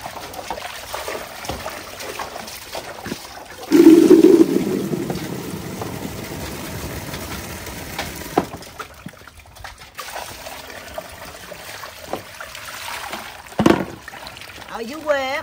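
River clams are washed and moved from one basin of water to another, with splashes, pouring and trickling water close by and a person speaking at times.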